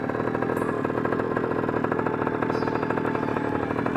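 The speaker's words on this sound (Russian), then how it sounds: "Попробуем завести. Так вот он работает." A children's petrol quad bike, the LMATV 049HM, idles close by with a steady, rapid small-engine putter and mechanical clatter that run unbroken, with no voices.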